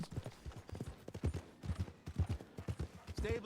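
Horse hooves clip-clop in a steady rhythm during a ride in the Red Dead Redemption video game, heard beneath someone talking throughout.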